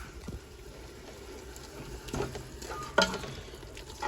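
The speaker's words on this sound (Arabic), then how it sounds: "وهنايا نقلي الزيت تاعي مع البصله" Chopped onion fries in hot oil with a soft, steady sizzle and crackle, quiet and continuous, with an occasional stir or clink.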